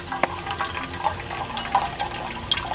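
Water squeezed through a Sawyer Squeeze filter trickles and drips outdoors, a quiet, steady flow with small splashes and drops running through the whole clip.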